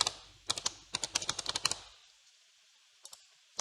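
A burst of quick computer keyboard typing, a dozen or so close, crisp key clicks in about a second and a half, then quiet with two faint clicks near the end.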